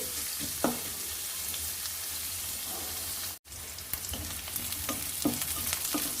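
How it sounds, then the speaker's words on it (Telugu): Chopped onion pieces frying in a pan for ivy gourd curry, a soft continuous sizzle with light crackles and a few stirring scrapes, close and even, broken by one brief gap. "ఉల్లిపాయ ముక్కలు చక్కగా వేగేంత వరకు మనం 2 నిమిషాల పాటు ఉల్లిపాయల్ని వేపుకోవాలి."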